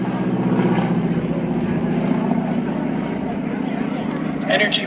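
A 600 horsepower propeller plane flies an evening airshow demo, a steady droning buzz with a pulsing low tone, moderately loud and continuous, while a commentator talks over it.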